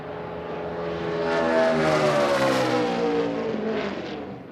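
A 2013 NASCAR Chevrolet race car driven by Kyle Busch on a qualifying lap, its engine screaming at high RPM as it swells in loudness, peaks, then recedes while passing by, with no talking.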